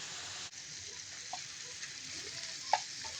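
Round potato slices sprinkled with a little salt fry in a pan with a steady, soft sizzle throughout, with a few faint pops and small stirring clicks and no talking.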